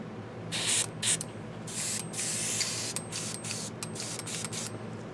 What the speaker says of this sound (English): Spray out any more water that's in there.